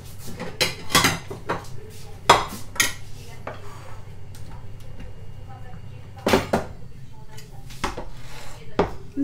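Metal ladles clatter as they are pulled out of a kitchen drawer while purée with a beef sauce is made: several sharp, close clinks and scrapes of cutlery and pans in irregular bursts, with a voice speaking at times.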